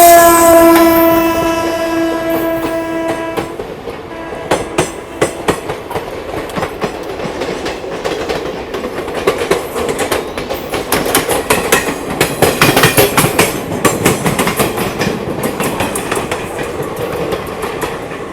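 Amrit Bharat Express on its Delhi to Gaya run, a loud horn blast at the start giving way to a close, steady clickety-clack of wheels over rail joints and a rushing rumble of the moving carriages.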